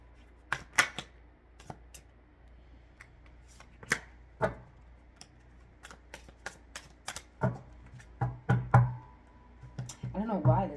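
Tarot cards shuffled in irregular bursts of soft riffling slaps, some brief and sharp, others in quick clustered runs, close and fairly quiet, with faint voice-like sounds near the end.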